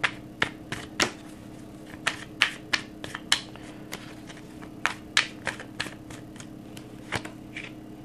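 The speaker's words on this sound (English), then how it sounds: "I'm going to lay out a few cards" Tarot cards being laid out one by one, a run of crisp slaps and flicks at uneven intervals, close and clear over a low steady hum.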